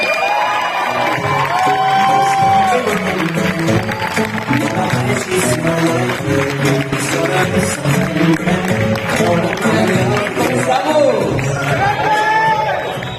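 A large audience at a network marketing event welcomes a speaker with loud cheering, whoops and shouting over clapping, a sustained, energetic crowd roar filling the room for many seconds.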